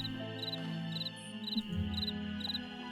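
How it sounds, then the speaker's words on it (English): Crickets chirp in the video game Nancy Drew: Ghost Dogs of Moon Lake, in short regular high-pitched bursts over a steady synthetic ambient drone and low music-like tones. "Oh, they're crickets!"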